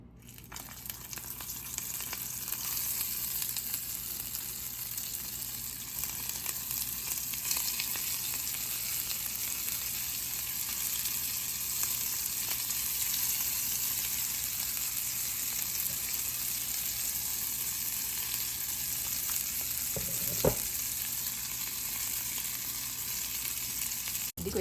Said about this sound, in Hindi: शैलो फ्राई करेंगे, ठीक है ना। ज़्यादा ऑयल नहीं, डीप फ्राई नहीं करेंगे।